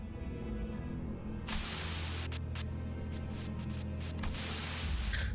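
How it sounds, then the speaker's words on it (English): A sudden burst of harsh radio static cuts in over a low steady hum inside a truck in Limbus Company, the loud white-noise buzz holding for several seconds with short stuttering breaks. "A sudden buzz of white noise breaks through the truck's silence."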